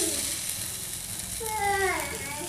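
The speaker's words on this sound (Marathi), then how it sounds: "त्या साईडनं पण खरपूस असे भाजून घ्यायचे।" Corn fritters for a one-year-old frying in a little oil in a pan, a soft steady sizzle running throughout with faint tonal whistles and a brief chirp near the end.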